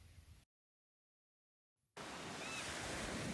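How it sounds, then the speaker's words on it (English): Gentle ocean waves wash steadily in a soothing, continuous surf that begins after a long silent gap, with a brief burst of the same sound at the very start. "Nice calming waves."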